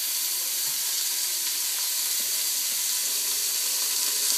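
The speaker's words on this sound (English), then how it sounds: "A lot of times I'll saute some of the celery as well." Celery sautéing in a pan for a Christmas soup gives a steady, even sizzle throughout, close by and constant with no talking.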